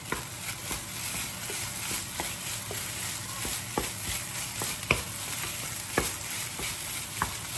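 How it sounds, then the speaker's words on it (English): An egg cooks in a hot pan for pork belly fried rice, giving a steady close sizzle broken by repeated sharp spatula taps and scrapes against the pan. "Now I'm going to add in my egg to cook."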